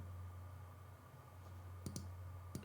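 Computer mouse clicking while working in Photoshop, a few sharp clicks in quick pairs near the end over a steady low hum, close and faint, with no talking.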